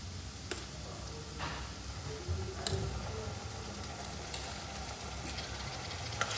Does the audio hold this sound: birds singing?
no